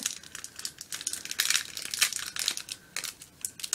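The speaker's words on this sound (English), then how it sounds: "let's open up the trading cards" Trading card pack wrappers crinkling and tearing close up as they are opened, a run of sharp, irregular plastic rustles and crackles with no talk over them.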